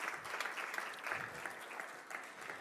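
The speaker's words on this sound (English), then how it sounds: "Can we have a big round of applause for the 11 startups that presented today?" An audience at a startup accelerator demo day claps steadily for about three seconds, a dense even patter of many hands without cheering.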